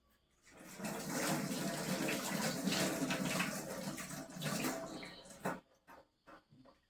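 Tap water runs steadily into a sink while something is washed by hand, a loud continuous splashing rush that cuts off near the end, leaving a few scattered drips and clatters.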